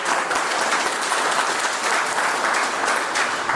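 A large audience claps steadily and loudly for several seconds at an Adivasi Suraksha Yatra gathering, a dense, continuous wash of applause with no pauses and no voices standing out.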